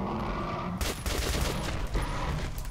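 Sustained gunfire in the Metro Last Light video game, a dense fusillade of rapid shots that keeps going loud and close for several seconds after a quieter opening.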